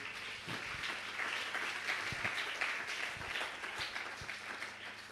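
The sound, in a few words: congregation applauding for the glory of God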